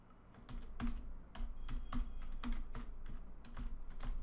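Steady typing on a computer keyboard while entering checkbox labels in Android Studio, with a continuous run of close, crisp keystrokes in an uneven rhythm and no speech.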